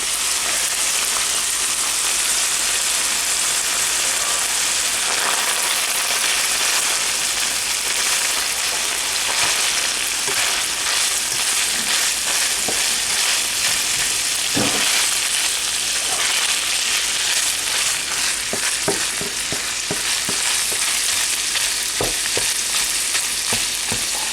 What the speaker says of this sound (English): Look at, hear the sizzling.